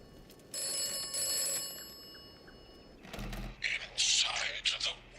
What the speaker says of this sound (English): Whoa, we got a phone call.